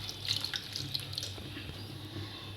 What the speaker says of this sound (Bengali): তারপরে দেব জল,